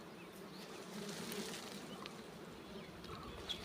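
Honeybees buzzing around a wild hive being harvested from a small branch, a steady dense drone of many insects close by, continuous and fairly loud throughout with no talking.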